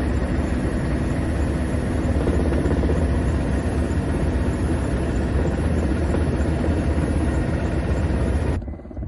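A firefighting helicopter works over a forest fire in rugged terrain started by a lightning strike, its engine and rotor droning loud and steady and close before cutting off abruptly near the end.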